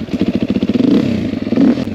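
A supermotard motorcycle engine, heard during braking with a MotoMaster brake setup, gives a close, loud, pulsing rumble that flutters rapidly as the revs shift, with no speech.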